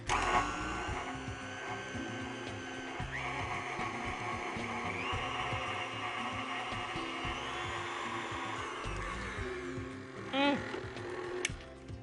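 An electric mixer creams molasses brownie batter with oil in a kitchen, a steady whirring motor hum running throughout at moderate level, its pitch shifting slightly partway through, with a few brief clatters near the end.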